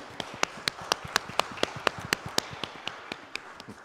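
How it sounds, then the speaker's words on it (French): A single person claps steadily during a church service, about a dozen and a half evenly spaced claps, fairly close and distinct, with no crowd joining in. "Je vais vous applaudir."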